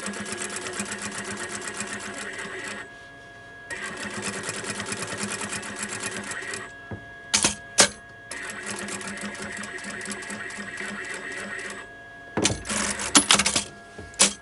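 Sewing machine stitching small clothes for a rag doll runs in steady bursts with short pauses between them, close and fairly loud, with a few sharp clicks and knocks during the breaks.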